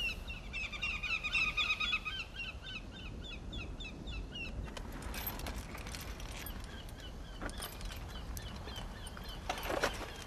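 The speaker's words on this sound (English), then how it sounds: "Very, very vocal birds." Very vocal birds, a pair with a youngster on a cliff face, give a rapid series of bright, repeated chirping calls for about four seconds, then the scene drops to a steady rustling background with only faint scattered sounds.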